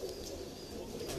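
Soft, low cooing comes from pigeons kept as high flyers in Pakistan, a continuous murmuring coo at moderate distance with faint chirps above it.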